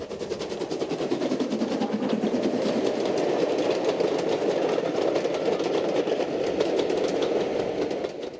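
A Stanier Black Five steam locomotive chuffs steadily past at close range, with rapid rhythmic exhaust beats and rattling wagons, loud and continuous throughout.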